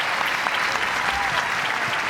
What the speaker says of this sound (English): And a huge applause for Bradie Tennell here in Wichita